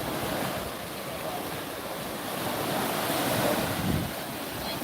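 Ocean waves wash steadily onto a beach in the Philippines, a continuous broadband roar of surf with wind buffeting the microphone, swelling slightly toward the end.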